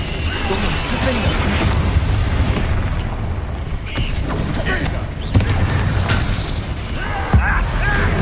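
Confringo fire spell blasts in the Hogwarts Legacy video game: loud booming explosions over a dense, continuous roar of combat noise, with sharper crashing bursts near the middle and toward the end.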